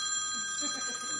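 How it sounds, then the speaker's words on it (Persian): Telephone bell ringing on a comedy TV studio set, a steady electronic ring filling the brief moment, moderately loud with no talk over it. "وای تلفن."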